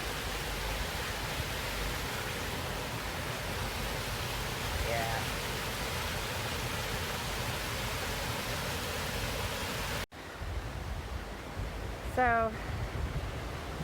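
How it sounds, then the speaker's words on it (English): A small waterfall at a retreat center produces a steady, close, broadband rush of falling water throughout. A person speaks briefly near the end over the continuous roar. "So the rushing you hear is this little waterfall."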